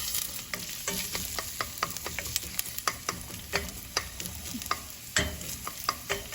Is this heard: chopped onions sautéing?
yes